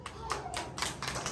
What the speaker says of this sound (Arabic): صفقوا لليلى